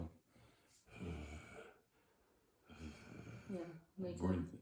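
A voice imitates the snorting, catching breaths of sleep apnea during sleep, with harsh breathy gasps in several bursts between pauses.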